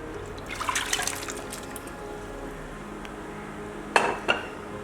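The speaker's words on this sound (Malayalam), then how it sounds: "അതിലോട്ട് നമുക്ക് ചക്കക്കുരു വേവിച്ചതല്ലേ, അതിലോട്ട് ഒഴിച്ചു കൊടുക്കാം" Boiled jackfruit seeds and their liquid are poured into an earthen clay pot, a short wet splash and clatter followed later by two sharp clinks against the pot.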